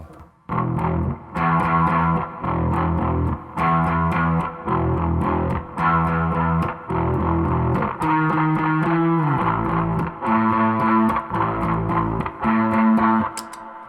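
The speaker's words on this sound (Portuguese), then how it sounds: "Coloco um reverb também para dar uma profundidade a mais." Electric bass played through chorus and reverb effects with an Aguilar Tony Hammer preamp in an 1980s-style tone; a steady run of sustained, shimmering notes and chords, loud and alone without speech.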